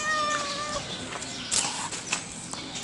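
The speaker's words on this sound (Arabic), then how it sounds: "القطة دي بقى بترقص في رجلي وانا رايح وانا جاي" A street cat meows at someone's feet, giving several close, clear meows over a busy outdoor background.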